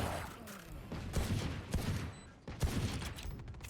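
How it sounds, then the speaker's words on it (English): Rapid bursts of gunfire in a Valorant esports match between Gen.G and Phoenix1, dense overlapping shots and game effects filling the whole stretch, loud and continuous. "Can't land the headshot. Oh, but Menace can't either."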